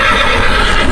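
A horse neighs loudly and close, one sustained whinny filling the brief moment, heard at a festive football fan gathering for Peñarol supporters.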